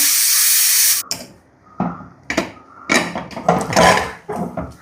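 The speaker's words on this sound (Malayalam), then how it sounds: "ഞാനിതാ ഇതിലത്തെ എന്താ പറയുക പ്രഷർ തുറന്ന് കളയാണ്" A pressure cooker used to cook jackfruit vents steam in a loud, close hiss lasting about a second, followed by several sharp metallic clanks and knocks as the cooker is handled.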